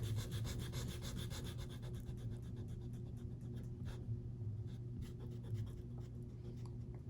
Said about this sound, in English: I can erase all those lines.